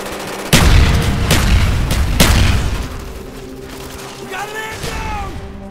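A frag grenade blast in Call of Duty Black Ops: a loud, close boom followed by a couple more heavy bangs and rumbling gunfire, with game voice callouts over the action.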